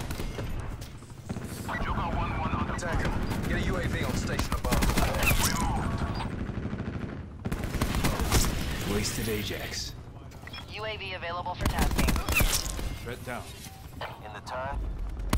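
Gunfire in the video game Call of Duty: Black Ops 4, with bursts of shots and busy combat effects under near-constant game voice callouts and player talk.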